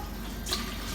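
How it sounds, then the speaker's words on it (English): Tap water runs steadily with a faint hiss, briefly rising in a splashy burst midway as it pours into a container. "Just fill that with water."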